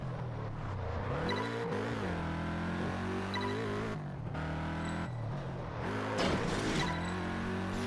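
A car engine in Test Drive Unlimited 2 revs and shifts, its pitch rising and falling through several gear changes, loud and close with no talk over it.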